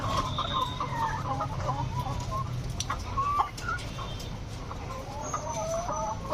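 A farm chicken struggling in sudden heat makes faint, scattered clucks and strained calls over a steady background hum, with no talking.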